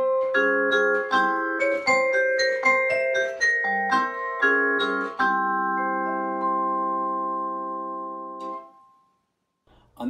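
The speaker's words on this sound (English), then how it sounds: "The vibraphone is a percussion instrument that creates melodies by hitting it with a mallet while pressing a pedal down." A vibraphone struck with mallets plays a melody, bright bell-like notes with the pedal held so tones ring long and overlap, then fade away into silence near the end.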